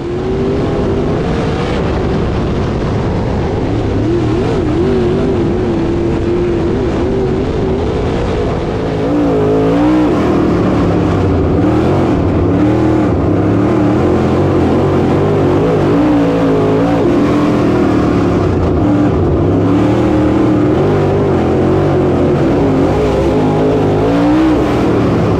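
Dirt late model race cars roar around the oval at Whynot Motorsports Park during the Fall Classic finale, a loud continuous wall of engine noise with pitch rising and falling as the cars power through laps in traffic.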